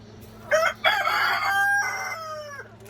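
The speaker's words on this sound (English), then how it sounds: "Got a rooster on my head." A rooster crows loudly and close by, one long drawn-out call with a rising start and a fading tail, over a low steady background hum.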